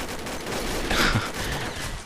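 An XM8 rifle fires in a video game as a dense, continuous stream of rapid shots, loud and close, with no pauses or talking.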